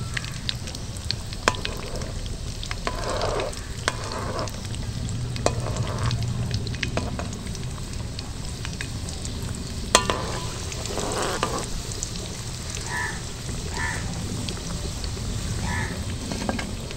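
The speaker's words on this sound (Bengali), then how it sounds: "তেলটা গরম হয়ে গেছে, কিন্তু আঁচটা মিডিয়াম রেখে ভাজতে হবে" A steady, even sizzle of raw potato snacks frying in hot oil on a medium flame runs throughout, broken by occasional stirring scrapes and light clinks.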